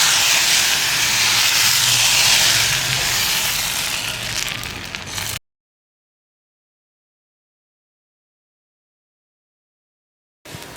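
Appam batter made from idli batter hits a hot pan with a strong, steady hiss and sizzle for about five seconds, then cuts to silence before a brief return of sizzling at the end.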